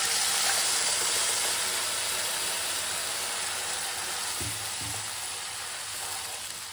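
Tomato puree added to a hot pan hisses in a loud, steady broadband sizzle that fades slightly over time, close up, with a couple of faint thumps partway through and no talking.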